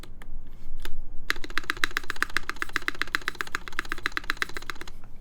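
Mechanical keyboard typing, a couple of isolated keystrokes and then a fast, steady run of crisp clacks up close, with no talk over it.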